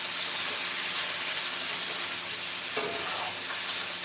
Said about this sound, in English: So now that I know they have a skin on one side, I'm gonna go ahead and stir them